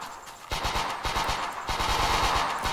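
Rapid automatic weapon fire in a third-person shooter game, loud close bursts of closely spaced shots after a brief quieter start, briefly pausing and then resuming.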